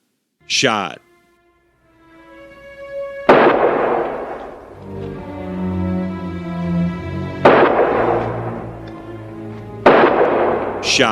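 Gunshots in the WWII war film The Big Red One: three loud, sharp shots land a few seconds apart, with voices and sustained tonal sounds between them.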